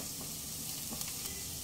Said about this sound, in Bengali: মিডিয়াম ফ্লেমে পেঁয়াজ আদা রসুন 1 মিনিট ভেজে নেওয়ার পর দিয়ে দেব 2 পিঞ্চ হিং